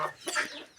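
A rooster that may be sick with diarrhea gives one brief, close cluck, a short throaty call of under a second.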